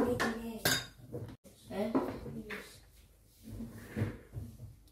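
Dishes and cutlery clatter while washing up, with scattered clinks and knocks of plates and utensils, near and intermittent, under bits of household talk.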